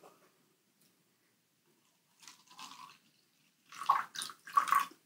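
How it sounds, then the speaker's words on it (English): Water poured into a cup holding a little liquid dish soap, heard as a few short, faint splashing pours with pauses between them, the last bursts louder and closer. "I add water."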